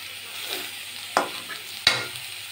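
Steady sizzling of onions sautéing in oil in a pan, with two sharp scraping knocks of a utensil stirring, close and fairly loud.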